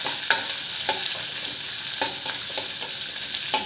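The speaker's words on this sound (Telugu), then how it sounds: "పోపు అంతేలా వేగిన తర్వాత ఉల్లిపాయలు కూడా యాడ్ చేసుకోవాలి" Onions frying in a spice tempering for jonna guggillu, a steady bright sizzle with several sharp clicks as a utensil stirs the pan, close and fairly loud with no voices.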